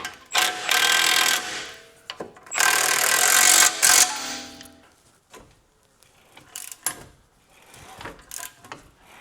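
A power tool whirs in bursts driving bolts into F80 M3 suspension arms fitted to a BMW M135i, loud close revving spurts with short pauses and quieter clicks between.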